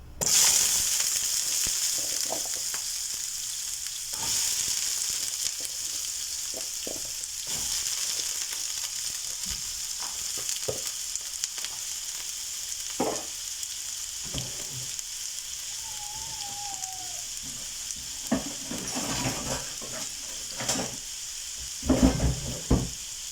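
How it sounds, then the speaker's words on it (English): Warus frying in hot oil crackle and sizzle continuously at close range, with bubbling pops and occasional stirring noises growing busier toward the end. "So when your oil gets hot enough, you can now add in your warus."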